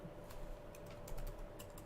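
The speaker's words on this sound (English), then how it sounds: "I'm typing in our group chat on LinkedIn" Quiet, irregular clicks of fingers typing on a computer keyboard, arriving in short uneven bursts with brief pauses between keystrokes.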